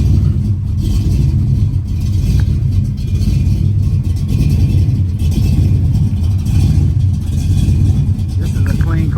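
A 1969 Chevy Nova engine runs with a low, steady rumble that swells as it revs, heard up close with people talking over it throughout.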